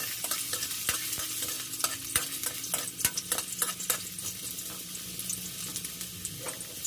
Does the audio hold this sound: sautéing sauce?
yes